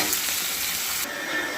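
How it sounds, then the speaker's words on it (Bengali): Chopped onion fries in a pan with a steady, dense sizzle that holds close and even throughout, no voices over it. "এবার পেঁয়াজটা একটু ভালো করে লাল লাল করে ভেজে নেব।"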